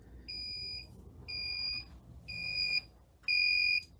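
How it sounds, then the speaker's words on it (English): A high electronic beep repeats four times at a steady pace from a boat engine's shift and throttle control station, each tone lasting about half a second, clear and isolated over a faint low hum. "The shift and throttle control will have no lights on it, and it will be beeping at you"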